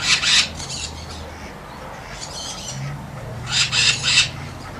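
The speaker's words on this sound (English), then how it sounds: "You might hear the birds screaming" Harsh bird squawks burst out in three clusters, loud and raspy, over a steady background hum.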